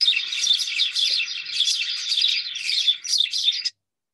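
Spanish sparrows in Greece give a fast run of bright, chattering chirps, close and loud, lasting a few seconds before cutting off.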